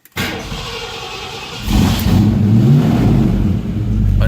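A 1969 Ford Mustang fastback with a new engine rumbles at idle, then revs up into a louder, deeper surge that holds and rises briefly, heard close and alone.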